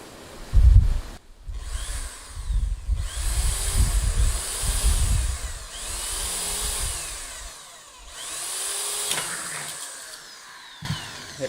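A power drill bores a hole in wood while a handmade snare drum is being built, whining in several bursts that rise and fall, with a loud clunk at the start and short pauses between passes.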